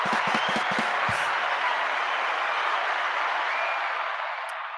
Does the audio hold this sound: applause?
yes